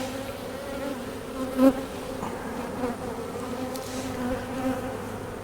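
Honeybees buzz around a hive frame of brood in an outdoor apiary, a steady close droning hum with one louder pass near the microphone.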